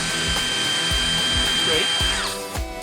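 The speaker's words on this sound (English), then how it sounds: "Back them out with the gun." A cordless power drill backs screws out of a polycarbonate bending brake in a workshop, with short repeated motor whirs and clicking bursts close by, under ongoing workshop noise.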